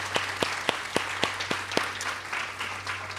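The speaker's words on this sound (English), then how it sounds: "So let's give them a round of applause." An audience at a mental health summit panel applauds, with individual claps standing out as distinct sharp slaps over a softer bed of clapping, fairly quiet and steady.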